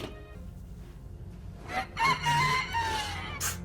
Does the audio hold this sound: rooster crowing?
yes